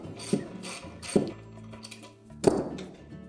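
A wrench loosens the nut on a Whirlpool dryer's blower fan shaft, giving three distinct metallic clunks spaced about a second apart, each with a short ringing clatter, close and alone.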